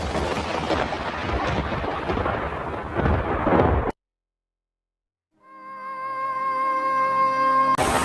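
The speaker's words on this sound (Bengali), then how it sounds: "কি বৃষ্টি দিয়েছো তুমি" A cartoon storm with heavy, dense rain and a loud rumble of thunder cuts off abruptly into silence, then a sustained tonal musical swell fades in.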